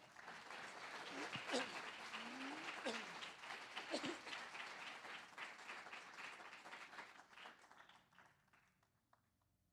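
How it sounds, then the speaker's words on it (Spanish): A church congregation gives loud, sustained applause during a Spanish-language sermon on the gift of wisdom. The dense clapping comes with a few voices calling out over it, and then it fades away toward the end. "Dele un aplauso fuerte al Señor."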